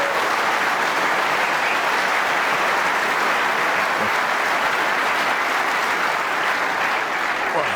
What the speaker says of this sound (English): the applause from the audience for some of these safety shots and escapes is terrific